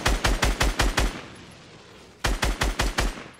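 Rapid bursts of automatic gunfire from a Fortnite-style video game, two volleys of about six evenly spaced shots each, separated by a quiet gap, loud and close with no talking.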